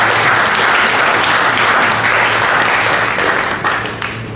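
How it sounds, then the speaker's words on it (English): Audience applause at a Legacy Boxing Promotions event, loud, dense and sustained clapping that fills the hall and begins to thin toward the end. "to give him a round of applause"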